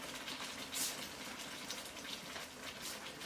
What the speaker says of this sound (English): Pour a little water in this